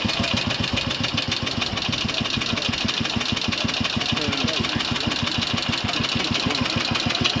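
1931 Triumph special motorcycle engine running at idle, a loud, close, evenly pulsing thump-thump rhythm that holds steady throughout with no talk over it.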